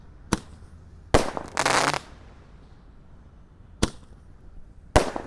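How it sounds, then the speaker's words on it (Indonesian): Magic Snack 19-shot Roman candle fireworks firing outdoors, a series of sharp, loud pops spaced irregularly with one dense crackling burst, while a voice briefly counts aloud. "Ini shotnya ada 19 Romain Candle Pretek"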